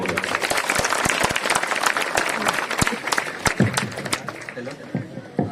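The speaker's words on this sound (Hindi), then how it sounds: "तालियां बजाओगे" Villagers applaud at a grand welcome for UPSC rank 732 candidate Ranveer Chhimpa, dense crisp clapping close by that thins out toward the end, with voices mixed in.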